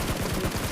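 Gunfire from a battle royale video game, a rapid burst of repeated shots rattling in quick succession at moderate loudness with no talk.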